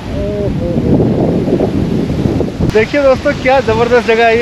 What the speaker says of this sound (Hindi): बहुत तेज आंधी आ रही है यहाँ पे